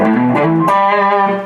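An electric guitar played through a Timmy overdrive pedal, alongside DXI, Echo and Pulsar effects on a pedalboard, rings out in loud sustained chords with a bright, driven tone and two quick restrikes.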